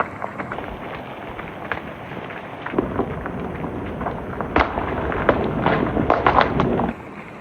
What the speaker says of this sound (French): Les chutes de pierre de fou.